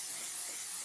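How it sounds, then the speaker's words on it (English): Brief hiss of cooking oil sprayed from a can onto a preheated pan for churros, a short steady close spray. "Go ahead and spray over there"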